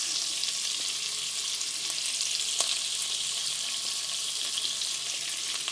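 Ginger garlic paste, green chillies and a bay leaf frying in oil for paneer biryani, a continuous close hiss of sizzling with faint scattered pops and stirring clicks throughout.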